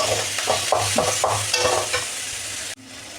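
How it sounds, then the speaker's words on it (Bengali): Chillies with red, green and yellow capsicum are stirred in a hot pan, a spatula scraping in steady strokes over a continuous sizzle, close and fairly loud, with no talking. "এবার আমি ভালো করে নেড়ে নেব"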